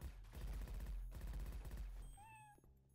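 Rapid bursts of machine-gun fire rattle loudly in a Left 4 Dead 2 modded game, followed by a cat's short rising meow near the end as the shooting fades.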